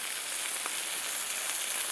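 Hamburger buns toast on a hot griddle, giving a soft, steady, even sizzle at low level with no voices over it.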